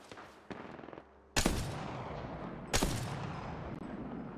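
Gunfire in the Apex Legends game, heard as two loud sharp bursts at a distance with crackling tails. Softer scattered shots and clicks come between them.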